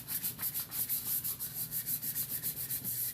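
Sandpaper rubbing across the wooden body of a guitar in steady back-and-forth strokes, a close, even rasping rhythm repeating about four times a second with no voices.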